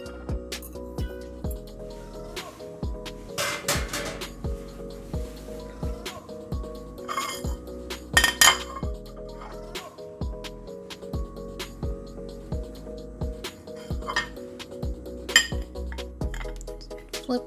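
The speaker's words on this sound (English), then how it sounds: "So it's time to take the lava cake out of the molds." Hot chocolate lava cake being worked out of metal molds in a kitchen, with light metallic clinks and taps of the molds and utensils over soft background music, a few sharper knocks standing out.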